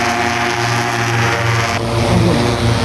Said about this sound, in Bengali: স্পষ্টভাবে উঠছে ড্রোনটি একদম